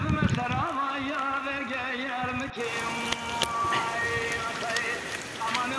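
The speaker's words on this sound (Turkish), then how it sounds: "sağanak yağmur yağıyor" Heavy downpour in a village at Taşlıçay, Ağrı, a steady dense patter of rain on surfaces with wind gusts, continuous and close, with a voice briefly audible early on.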